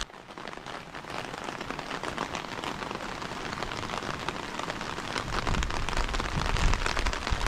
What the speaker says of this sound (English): when it's rainy season, it rains a lot